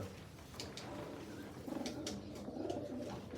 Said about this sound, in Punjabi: ਤੇ ਆਹ ਵਾਲਾ ਬਾਈ ਕਬੂਤਰ